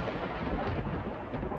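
A thunderstorm with rain rumbles deep and heavy throughout, a dense continuous roll of thunder with hissing rain, loud and close, with no voices.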